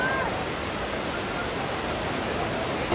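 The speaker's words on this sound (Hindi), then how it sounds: "पानी का फ्लो इतना तेज है।" Fast-flowing flood water rushing after a cloudburst, a steady loud broadband roar of turbulent water that fills the whole stretch without pause.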